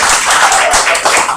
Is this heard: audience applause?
yes